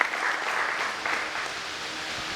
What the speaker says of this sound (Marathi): त्यासाठी एकदा जोरदार त्यांच्या टाळ्या होत्या